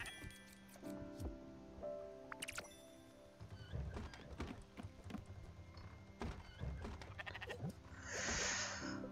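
Sheep bleat in the game Spiritfarer amid game music and soft thunks, with several short cries mixed into the light background.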